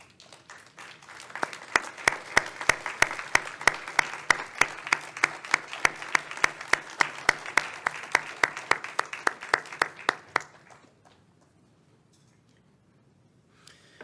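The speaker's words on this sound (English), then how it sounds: "Could I please ask all of them to stand so that we can give you a round of applause?" Applause at a scholarship luncheon as donors stand, with sparse individual claps building into steady clapping from a moderate crowd for about nine seconds, sharp hand slaps standing out, then fading abruptly to near silence.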